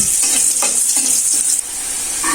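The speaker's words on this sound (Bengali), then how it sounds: "আলুটা আমি লবণ হলুদ দিয়ে লাল লাল করে ভেজে নিব" Potatoes with salt and turmeric fry in hot oil with a loud, constant sizzle, and a utensil stirs them with soft scraping strokes.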